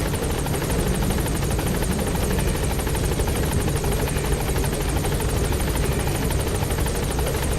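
In Metal Gear Solid V, a helicopter flies away from Mother Base with a loud, constant rotor drone and engine whine that stays steady throughout, with no voices over it.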